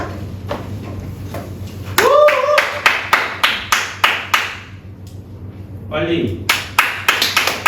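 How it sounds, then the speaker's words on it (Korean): A math class claps on cue, giving a series of sharp, separate claps in an uneven rhythm, some fairly loud and close. A teacher's voice speaks briefly between the claps, with faint background hum. "자, 박수 한번 치자"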